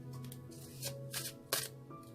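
A deck of tarot cards is shuffled close up, with a few soft riffling swishes in quick succession against a quiet, faintly humming room.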